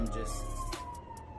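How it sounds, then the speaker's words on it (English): An emergency vehicle siren sounds outdoors, a steady wailing tone heard indoors behind the room's sounds, fading slightly as it passes. "siren."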